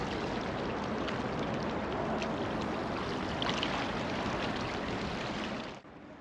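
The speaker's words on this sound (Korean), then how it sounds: "승강기에서 내리자 바로 앞에서 한강물이 흐르고 있네요." The Han River flowing beside a riverside park in Seoul makes a steady, fairly faint wash of water with a broadband rush that holds evenly and then drops off abruptly near the end.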